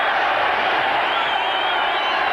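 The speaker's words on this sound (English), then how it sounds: "The crowd are going crazy there." Boxing arena crowd at the close of a world championship bout, a dense, steady roar of cheering and shouting that fills the whole moment at high volume with no break.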